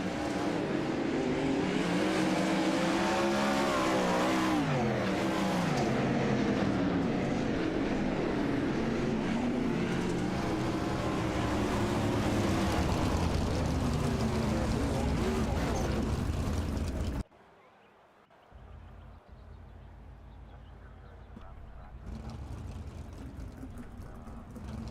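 Race cars roar around Lincoln Speedway on the final lap of a last-chance qualifier in the Tune-Up Challenge Series, a loud sustained engine drone with rising and falling pitch before cutting to a quieter, distant hum.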